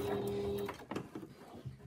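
Sewing machine back tacking the binding on a fabric potholder, a brief steady motor whir up close that stops after under a second, followed by faint handling noises.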